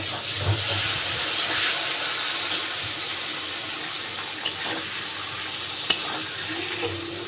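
Capsicum fries in a pan with spice paste, giving a steady soft sizzle with occasional stirring clicks and scrapes, close and moderately quiet, with no speech.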